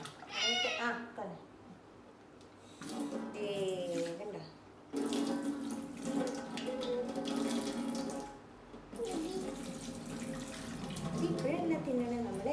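Water runs steadily from a kitchen tap into a sink as water is drained during palak paneer preparation, a continuous close rushing hiss that stops and starts, with voices talking over it throughout.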